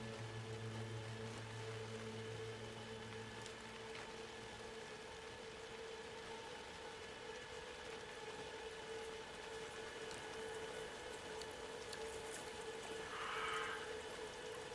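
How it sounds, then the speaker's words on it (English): Rain falls in the video game Alan Wake 2, a soft continuous hiss with faint patter, low and even, under droning ambient tones for the whole stretch. "And it's raining."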